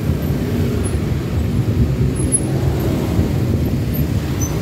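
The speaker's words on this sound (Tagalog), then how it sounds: "sobra ng traffic dito" Heavy road traffic, likely with a parade nearby, as a steady, loud low rumble of many engines and tires with no clear single passing vehicle.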